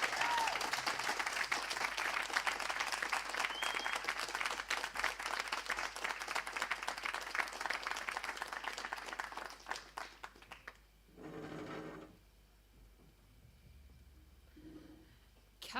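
Audience applause fills a student cellar venue after a talk, loud and sustained clapping for about ten seconds before it breaks off, followed by brief quieter murmurs and a short voice near the end.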